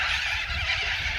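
A flock of cockatoos screeches in a yard, harsh raucous calls overlapping continuously and loudly at close range.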